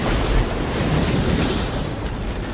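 Loud, continuous crash and wash of ocean waves, with wind buffeting the microphone throughout, from the film Cast Away (2000).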